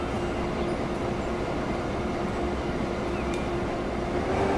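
Train in Transport Fever accelerating away from a factory with its freight wagons, a dense continuous rumble and rattle that stays loud and steady, with a faint tonal hum running through it.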